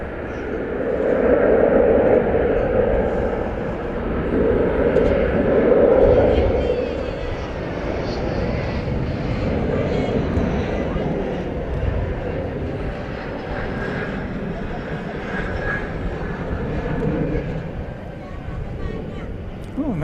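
An airliner arriving on the runway at DFW Airport in the evening roars with a broad, steady jet rumble that swells early and then holds at a moderate distance, with voices talking over it.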